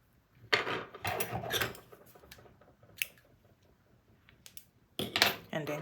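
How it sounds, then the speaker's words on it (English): Scissors cut crochet yarn while a granny square cardigan is being made, producing several close metallic snips and clicks in short separate bursts with quiet gaps between. "then you're going to chain up 1 and then cut off this yarn"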